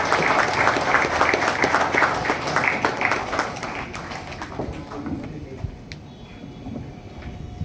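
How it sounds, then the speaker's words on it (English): An audience at a National Postal Week Mails & Parcel Day celebration claps loudly and densely for about four seconds, then the applause thins and fades into quieter room sound. "A huge round of applause for this moment."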